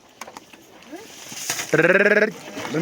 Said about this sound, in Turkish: Arkadaşlar bizim koyunlar geldi.